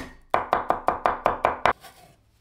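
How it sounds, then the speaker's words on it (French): Knife chopping boneless chicken thighs into pieces on a board, eight crisp evenly spaced thuds in quick rhythm, close and alone, then a quiet tail. "Je coupe 2 os de cuisses de poulet en morceaux"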